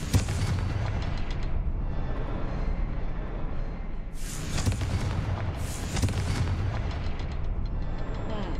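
A Confringo spell in Hogwarts Legacy sets off rune blasts, heavy rumbling booms that roll continuously with two sharper bursts flaring partway through, loud and close with no voice over them.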